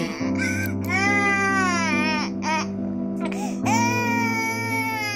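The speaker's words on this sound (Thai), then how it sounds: "เสียงร้องไห้ของลูกทำให้แม่ปวดใจเสมอ" A baby cries loudly and continuously, wailing in long drawn-out bursts with brief catches of breath between them.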